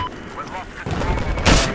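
Gunfire in the Battlefield 4 video game, a short loud burst of shots near the end of a brief moment, with in-game noise and speech-like sounds around it.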